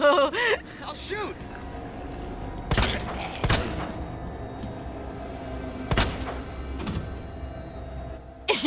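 Gunshots in Resident Evil 2, several sharp, loud cracks spread across a few seconds, with a person reacting with vocal sounds between the shots.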